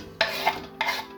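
Onions dropped into hot olive oil in a soup pot give two quick bursts of close, crackling sizzle, each dying back to a low hiss, with no talking.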